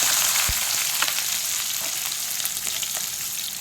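Onions sizzle and crackle steadily in hot oil, with a few soft clinks of stirring. There is no talking.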